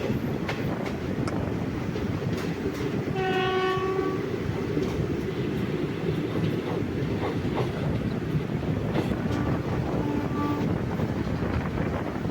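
Sengottai Express rolling slowly between Thanjavur and Madurai, a steady rumble and rattle of carriages with a brief horn blast partway through and another faint one near the end, heard from inside the train under wind noise.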